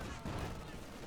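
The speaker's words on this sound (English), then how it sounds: "Bit of shooting there." Rapid bursts of rifle and machine-gun fire crackle across a Company of Heroes 2 battle, dense and continuous over a short moment with no voice on top.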